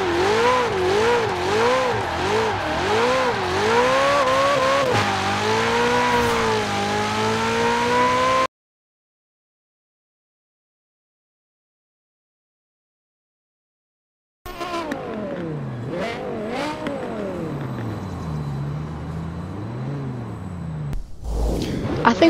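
Race car engine in Forza Horizon 4 revving hard through rising and falling gear changes, loud and close, with a silent gap midway before more revving, pops and crackles.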